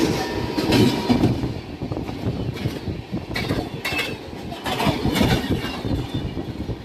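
Amrit Bharat Express train running on the rails near Ongole, heard from on board as a continuous close rumble with a dense, irregular clatter of wheels over rail joints, steady and fairly loud throughout.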